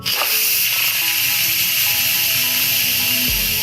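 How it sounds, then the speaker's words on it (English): An Instant Pot switched to venting for a quick pressure release sends out a loud, steady hiss of escaping steam that holds constant for several seconds with no pauses. "you take this little knob and you turn it to venting, or if you have a button, you're gonna push the button, it just both will let all the steam out"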